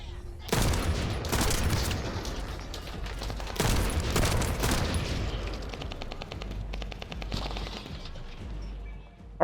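Sniper rifle shots from a video game crack in loud, close bursts with sharp transients and lingering rumble, followed by a sparse rapid clicking at the end; brief talk is faintly present.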